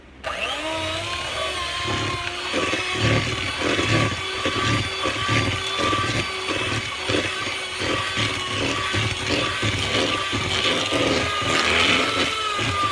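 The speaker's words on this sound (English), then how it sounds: "Just going to mix this up." A hand mixer beats batter for a from-scratch New Orleans praline pound cake: a loud, steady motor whir with rhythmic pulsing as the beaters churn, running the whole time with no talking.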